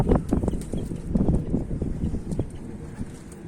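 Mardin pigeons flap and coo close by during a hawk attack, a busy, steady jumble of wingbeats and low calls with no clear break.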